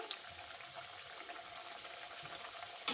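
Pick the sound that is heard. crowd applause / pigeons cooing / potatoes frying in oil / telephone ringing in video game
potatoes frying in oil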